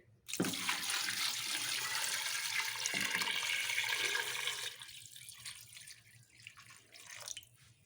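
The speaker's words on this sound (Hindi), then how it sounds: "एक बाउल मैंने पानी का इसके अंदर डाल दिया।" Water pours steadily from a bowl onto beef in a pressure cooker for nihari, a loud continuous splash for about four seconds, then tapering into softer trickles and drips.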